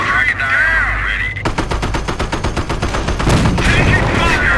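Loud battle noise from the World War II strategy game Company of Heroes, with rapid machine-gun bursts and heavy booming cannon fire layered under shouted unit voice lines and rumbling engines.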